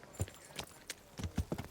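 Horse hooves clip-clop at a steady walking pace in the Kingdom Come: Deliverance video game, a series of crisp, close hoof strikes on hard ground.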